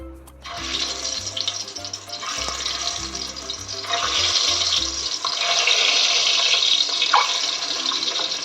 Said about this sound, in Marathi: आता आपण अंडे फ्राय करून घेऊया